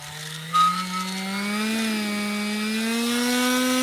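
A power sander working a deck lid starts to struggle, its loud, close motor whine holding a steady tone that slowly rises in pitch, heard alone without talk.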